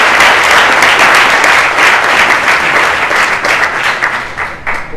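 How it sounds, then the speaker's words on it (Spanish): An audience gives loud, dense applause for a guest named Gonzo at a talk about a war photographer, the sustained clapping filling the room before gradually thinning toward the end. "otro aplauso para Gonzo"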